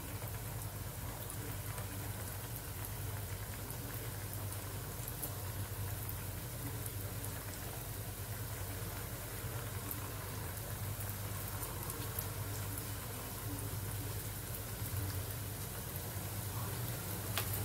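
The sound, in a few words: gulab jamun frying in oil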